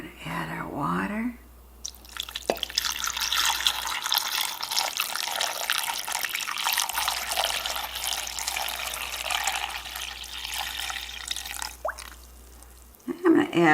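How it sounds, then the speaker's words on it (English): About four cups of water pour steadily into a pot of corned beef topped with pickling spices, a continuous splashing stream lasting around ten seconds, with a quiet kitchen before and after. "We're going to add our water."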